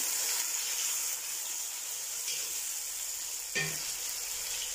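Onions frying in oil in a pan while preparing acheke, a soft steady sizzle and hiss close by with a brief stir partway through, no talking.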